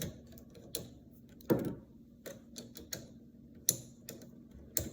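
A Cricut cutting machine working through its movements, with a steady soft motor hum punctuated by irregular close clicks and ticks as the carriage shifts, and no talk.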